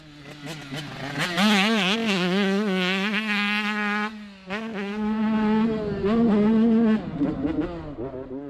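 Small 85cc two-stroke motocross bike ridden around a track, its high, buzzing engine revving and rising in pitch, dipping briefly as the rider shifts or lets off, then screaming again close by.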